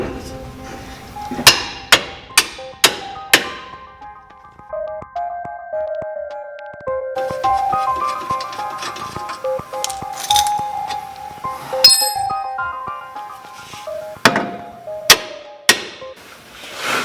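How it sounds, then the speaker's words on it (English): Sharp metallic hammer blows on a lower control arm ring out in irregular bursts during a Scion FR-S/Subaru BRZ coilover install, several loud clanks with pauses between, over a faint background hum. "use a big hammer."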